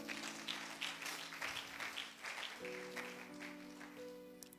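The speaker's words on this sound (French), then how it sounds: "Acclamons pour Jésus-Christ." A church congregation applauding during a Sunday service, giving steady, fairly distant clapping over sustained keyboard chords.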